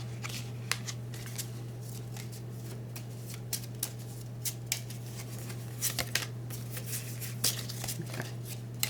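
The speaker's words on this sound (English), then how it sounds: "So we're going to shuffle all these cards." Tarot cards being shuffled lightly, a series of quick soft riffles and snaps over a faint steady hum, close and fairly quiet.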